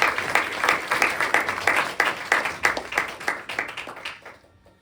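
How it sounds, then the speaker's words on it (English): An audience applauds musicians at a gathering at the Tibetan Institute, a dense, steady clatter of many hands that holds evenly and then fades away near the end. "a big round of applause"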